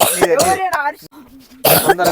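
A few short, sharp coughs or throat clears break up close, lively talking.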